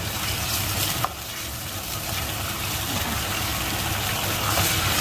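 Squid and shrimp stir-fried in a pan for a Thai dish with chili and stink beans, giving a steady close sizzle and frying hiss throughout, with one brief clack of a utensil early on and no talking.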